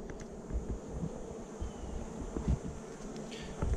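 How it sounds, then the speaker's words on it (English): Honeybees buzzing around an opened hive, a dense continuous drone with individual bees zipping close past, steady and moderately loud with no talking. "That bee just hates me."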